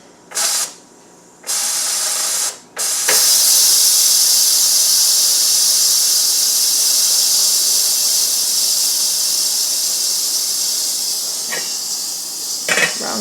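A pressure cooker full of sweet potato and red lentil curry vents steam. A few short sputters come first, then a loud, continuous hiss that runs steadily to the end.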